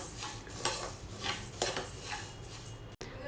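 Coriander seeds fry on low heat in a pan for homemade garam masala, with recurring scraping, stirring strokes and light clinks of a utensil against the pan, close up, with a faint sizzle beneath and no talking.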